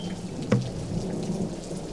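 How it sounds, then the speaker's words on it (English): Steady rain falls with a low thunder rumble and one sharp crack near the middle, a dense continuous wash of water with no voices. "it falls from the clouds as snow or rain"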